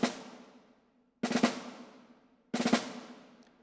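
Two snare drum strokes with open grace notes played with alternating sticking, each a quick cluster of hits with a ringing decay. They come after the tail of an earlier stroke and are close and clear with no talking.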